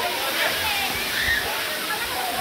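Steady broadband rush of a waterfall at Talebazar Nhavankond during the monsoon, loud and continuous with a sloshing texture, with faint voices mixed in.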